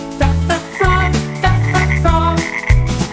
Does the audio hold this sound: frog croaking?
yes